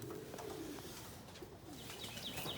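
Mookee pigeons coo softly in low, rolling calls, with a few higher chirps near the end against a hiss of background noise.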